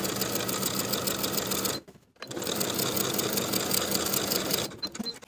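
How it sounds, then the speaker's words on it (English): Sewing machine stitching a dress seam below the zipper, a close, loud rapid mechanical whir that pauses briefly, resumes at full speed, then slows with a few stuttering stitches at the end. "I'll start sewing at the marked point below the zipper, backstitching to secure"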